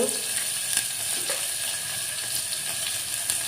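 Whole cumin and whole garam masala fry in hot oil for egg biryani, a steady, close sizzle with faint crackles and the occasional stir, and no talk.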